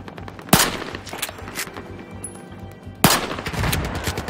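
Light machine gun fire in the video game Battlefield 4: two loud bursts of rapid automatic shots, each opening with a sharp crack and rattling on for about a second or more.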